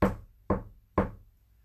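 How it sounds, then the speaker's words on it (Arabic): Three firm knocks on a door, evenly spaced about half a second apart, close and distinct with a short hollow decay after each, in an otherwise quiet room. "استمعوا إلى طرق بالباب"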